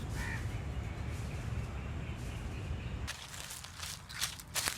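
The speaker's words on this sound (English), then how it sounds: "The chirps and tweets of various birds from the treetops." Birds calling from tall treetops in a wooded park beside a busy city street in Kolkata, with crow-like caws standing out over steady background hum and a few sharper calls near the end.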